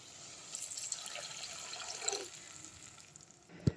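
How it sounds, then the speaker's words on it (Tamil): Water poured from a tumbler into a pressure cooker while making pea pulao, a faint, steady splashing stream lasting a few seconds and ending with a small knock at the close. "நம்ம அந்த தண்ணியை ஃபஸ்ட்டு ஊற்றிப்போம்."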